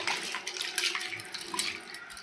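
Mung dal tipped into a pot of hot water for boiling: a short, steady splashing pour, close and with no talk.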